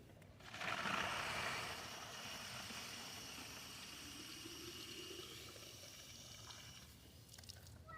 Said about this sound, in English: I'm just gonna show y'all me filling a few of them here.